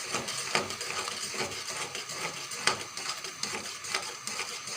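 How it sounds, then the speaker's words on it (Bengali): A spoon scrapes steadily around a pan of thickening jamun jelly, setting up a continuous soft bubbling sizzle with irregular clinks and scrapes against the metal, close and moderately quiet, with no talking. "এভাবে নাড়তে থাকবো অনবরত, যেন তলায় লেগে না যায়।"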